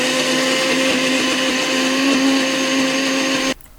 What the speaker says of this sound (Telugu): మొత్తం బ్లెండ్ చేసుకుని గ్రేవీ లాగా చేసేసుకోవచ్చు.